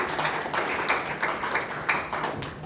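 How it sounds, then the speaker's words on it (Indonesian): A church congregation claps during Sunday worship, a continuous wash of hands with faint rhythmic pulses, moderately loud and filling the room. "Berikan tepuk tangan bagi dia."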